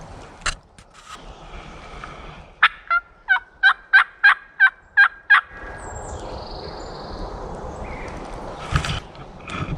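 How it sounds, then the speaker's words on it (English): Wild turkey on the ground in hardwood forest gobbling: a rapid series of about eight sharp rattling pulses, moderately near and alone, followed by soft rustling and faint handling noise. "See the turkey gobble at me."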